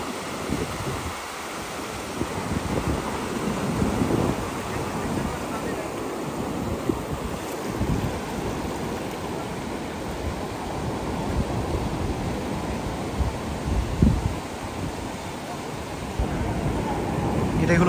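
Surf rolls in a continuous rushing wash on the sea beach at Cox's Bazar on a cold winter night during fishing, with steady wind buffeting the microphone.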